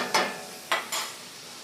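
Bacon sizzling in a pot while it renders fat before collard greens are cooked, three sharp sizzle bursts that each fade quickly, fairly loud and close, with no voices present.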